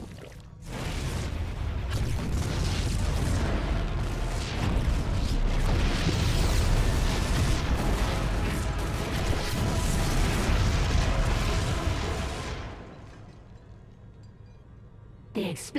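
Continuous heavy rumbling booms and blasts from a StarCraft II: Heart of the Swarm battle, dense and loud for about twelve seconds before dropping away to quiet.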